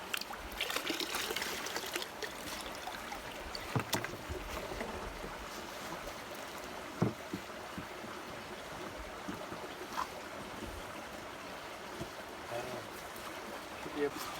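Water and black sand swished and shaken in a gold pan, a continuous wet sloshing and trickling with a few sharper knocks, close and steady for the whole stretch.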